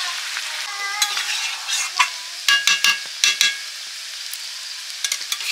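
Chicken and potatoes hiss and sizzle steadily in a pan of hot oil, with a burst of louder crackling and spluttering sharp pops midway as water is poured in, close up with no talking.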